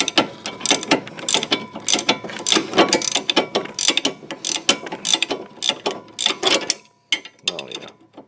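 Hand ratchet clicking in rapid, uneven bursts while tightening a front stabilizer end link on a 2007 Pontiac G6, loud and close, with a short pause near the end.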